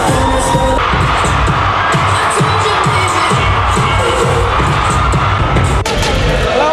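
A packed audience at a Cosmopolitan Bachelor Bash show cheering and whooping loudly over booming, thumping music with a steady beat, the noise constant and close.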